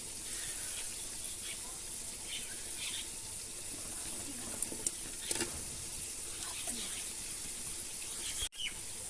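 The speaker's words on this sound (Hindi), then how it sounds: "अब इसमें जो है गोभी को डालेंगे।" Cauliflower goes into a pan of soft-cooked masala and peas, producing a faint continuous sizzle with a few soft clicks and stirring scrapes, ending in a brief sharp knock.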